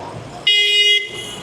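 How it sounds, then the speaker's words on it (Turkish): Busy street traffic in Cairo, Egypt, with a single loud car horn blast lasting about half a second up close, over a steady rumble of passing vehicles. "Oha trafiğe bak abi."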